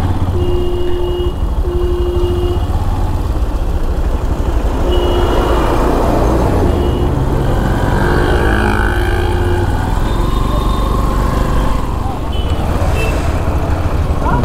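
A long traffic jam of cars and trucks around Amtala, heard from a motorbike: steady loud engine rumble with repeated reversing beeps and horn-like tones, continuous throughout, a voice faintly present.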